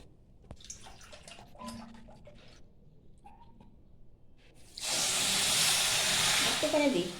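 Water pours into a pan to make sugar syrup for sweet potato gulab jamun, a steady loud rushing hiss in the latter part after quieter kitchen clatter.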